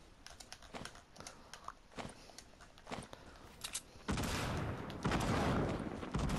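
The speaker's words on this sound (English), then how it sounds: "They're shooting right now." Gunfire in Fortnite crackles as a series of sharp, fairly faint shots spaced irregularly, then gives way to a louder, denser burst of rapid fire toward the end.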